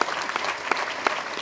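Audience at a school district groundbreaking ceremony clapping for student representatives, a brief burst of dense, steady applause from many hands, fairly close.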